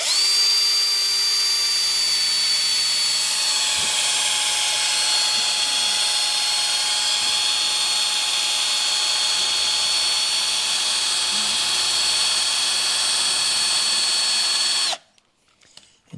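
A drill bores a dowel hole through a wooden hinge jig block, whining loudly and steadily for about fifteen seconds before cutting off abruptly.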